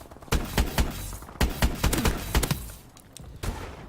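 Rapid repeated blasts from the EM1 directed-energy laser in the game Call of Duty Advanced Warfare, a dense irregular string of sharp, loud shots across most of the clip, fading slightly near the end.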